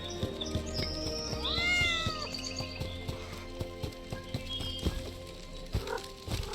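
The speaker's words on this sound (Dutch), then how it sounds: "Ik hoor heel veel katten." Several cartoonish cat meows in the video game Sir Whoopass: Immortal Death, rising and falling, among bright chirps and steady clicking percussion in game music.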